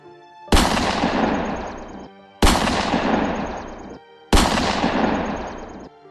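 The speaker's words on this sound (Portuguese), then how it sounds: "escutamos o som de um tiro. Na verdade, 3 tiros." Three loud gunshots fired at night, evenly spaced about two seconds apart, each a sharp crack followed by a long rolling echo fading out.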